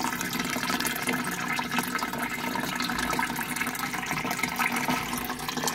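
Water splashes and pours continuously from an aquarium waterfall in a turtle tank, a steady rushing stream, close and fairly loud, with no voices.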